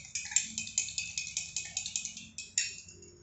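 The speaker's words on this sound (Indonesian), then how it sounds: "Saya aduk." Milk stirred in a glass gives a quick, regular series of light, bright clinks, about a dozen evenly spaced taps, close and quiet, with no talk.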